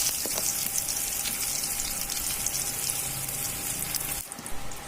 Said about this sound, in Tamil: வெங்காயம், கருவேப்பிலை ரெண்டையும் போட்டு தாளிக்கணும்.